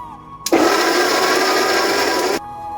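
A kitchen blender grinding green peas into a paste switches on with a loud, steady whir, runs for about two seconds, then cuts off abruptly.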